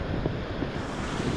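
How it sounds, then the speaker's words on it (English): Ocean waves washing in at a beach with strong wind buffeting the microphone, a steady loud broadband rush with no voices. "I'm fighting off some waves right now"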